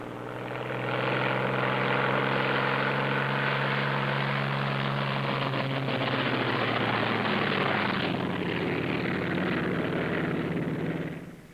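A pair of propeller aircraft taxi out with a steady, loud engine drone and a low rumbling hum that holds throughout, as if the planes are close by, and no one talks.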